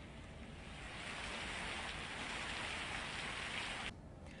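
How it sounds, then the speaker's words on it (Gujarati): Steady rain falls over rural village areas in Aravalli, a dense, even wash of drops on surfaces that holds for several seconds before easing slightly at the end. "હવામાન વિભાગની આગાહી પ્રમાણે વરસાદ વરસી રહ્યો હતો."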